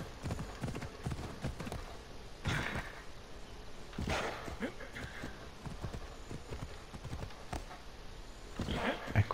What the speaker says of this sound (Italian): quindi ce la facciamo a cavallo.